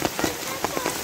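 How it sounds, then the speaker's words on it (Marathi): Heavy monsoon rain pours down at a water park resort in Badlapur, a steady close patter of drops on surfaces with a few louder splashes scattered through. "पाऊस खूप आहे"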